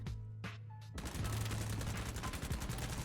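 A PDW submachine gun in BattleBit Remastered fires a few quick shots, then breaks into a long, continuous automatic burst, loud and close with a dense, rapid rattle.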